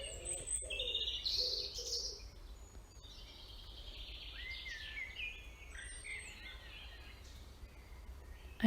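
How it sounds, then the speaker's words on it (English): Blackbirds call by a garden pond, a series of bright chirps and tweets early on, then fainter scattered calls over steady outdoor hiss. "but I also caught blackbirds"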